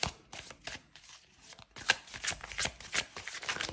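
A deck of tarot-style cards is shuffled by hand for a reading, making quick, close riffling and slapping bursts at a soft level with no voices.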